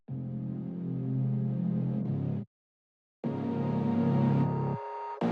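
Electronic dance build elements bussed together and swept upward with a filter, rising in two bursts of dense layered synth tone separated by a short silence, brightening as they climb.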